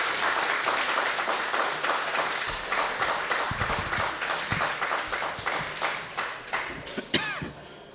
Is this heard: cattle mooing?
no